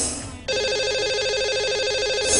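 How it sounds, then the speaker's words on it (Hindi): An outgoing telephone call rings on a live broadcast phone-in show, a steady electronic ringback tone buzzing loudly and continuously after a brief moment of line noise, with no voices. "आइए जानते हैं, लगाते हैं अब कॉल।"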